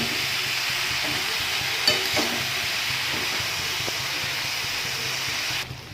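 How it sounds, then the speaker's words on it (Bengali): Cabbage with spices, destined for a Bengali dish with hilsa fish heads, sizzles steadily in a frying pan while being stirred, a continuous hiss with a few soft scrapes and knocks of the utensil; no one speaks. "অনেকটাই মজে গেছে, আমি একটু এখন নেড়ে দিই"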